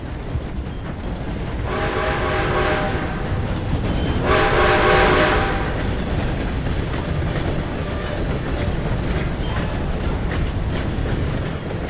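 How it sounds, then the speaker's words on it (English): A steam train thunders past in Red Dead Redemption 2, its loud rumbling rolling steadily throughout, with two long blasts of the whistle sounding in close succession early on as the locomotive rushes by nearby. "Gotta beat that train, Morgan!"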